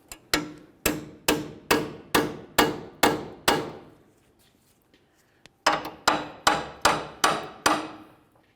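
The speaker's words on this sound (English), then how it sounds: "continue on with some sort of chisel or even a small pry bar that you can hit up against" Hammer strikes on a chisel or small pry bar driven against the rear wheel knuckle of a 2002–2005 Ford Explorer, two sharp runs of about eight and six metallic blows with an even rhythm, close and loud, separated by a brief pause.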